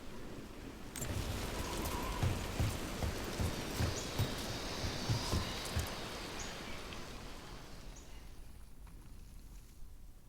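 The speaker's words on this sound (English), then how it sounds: "if I break my neck climbing up here in the rain" Steady rain pours down in the video game Dragon Age: The Veilguard, a dense broadband hiss with scattered drop patter that starts after a brief quieter second and holds evenly to the end.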